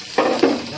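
Butter sizzles in a preheated pan, a brief steady hiss of frying that swells slightly after it starts.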